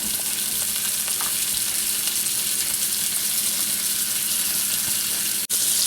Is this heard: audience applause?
no